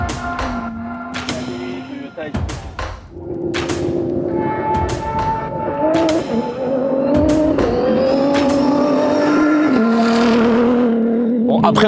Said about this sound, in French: il y a beaucoup de motos qui passent, mais il y a les voitures aussi